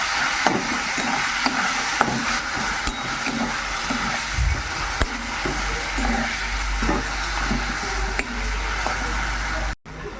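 Spiced eggplant mash seasoned with salt, turmeric and sugar is stirred in a pan, giving a steady sizzling hiss with scraping strokes of a spatula, close and fairly loud.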